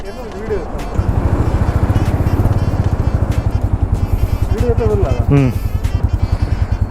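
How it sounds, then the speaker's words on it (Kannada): A heavy motorcycle being test-driven idles with a steady, rapid thumping putter close by while people talk over it. "ನಮ್ಮ ನಿಗಬಾಯ್ ಬೈಕ್ ಟೆಸ್ಟ್ ಡ್ರೈವ್ ಮಾಡ್ತಿದ್ದಾರೆ ನೋಡಿ."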